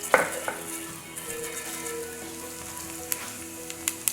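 Whole cumin seeds fry in hot oil on medium heat, a soft steady sizzle with scattered crackles and pops, fairly quiet and free of voices.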